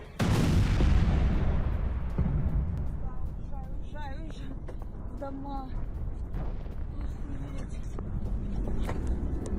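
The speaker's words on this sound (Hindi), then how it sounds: "रूस अधिकृत इलाके में 13 धमाके किए गए।" A loud, heavy boom of shelling in a residential area of Donetsk opens, then rumbling blasts and crackling echo through the air, with a few voices calling faintly in the background.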